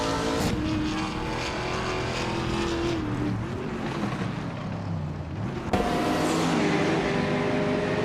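Race car engines roar continuously in a racing video game, loud and close with steady high-pitched whine and a sharp shift as one car passes or changes gear.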